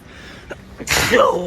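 A pigeon's single sharp sneeze bursts out after a couple of small breathy sounds, loud and close.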